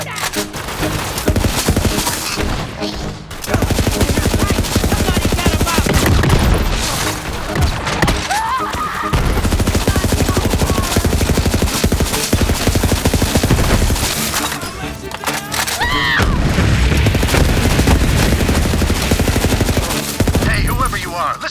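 Dense, loud automatic gunfire and explosive bursts from the video game Borderlands 3, nearly continuous rapid shots with brief gaps, mixed with faint game voices.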